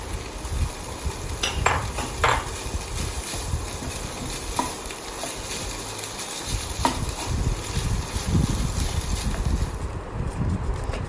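Fish pieces stirred with roasted chilies in a pan for fish cutlets, a steady sizzle under scraping and clinking of a utensil against the pan, with a few sharper knocks near the start.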